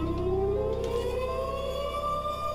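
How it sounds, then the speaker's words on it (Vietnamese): A Minecraft alarm siren, switched on by a button on a wall, wails with a steady rising tone over a constant low hum, fairly loud and without talk. "mình đặt lên tường bấm thì nó có còi báo động"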